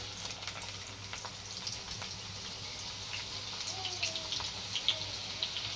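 Finely chopped onion sizzles in very hot oil in a kadhai, a steady close crackle and hiss with small pops throughout, no voices.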